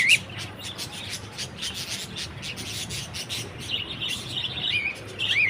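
Small birds chirp and tweet repeatedly close by, their high calls running over a steady rasping, scraping background for several seconds.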